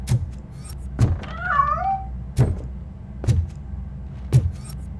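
In the video game Robocop: Rogue City, a cat lets out one wavering meow between several sharp clicks and knocks, with quiet background hum.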